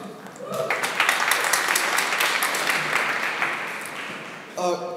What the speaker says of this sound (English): Big round of applause for Deadlock Empire and good luck.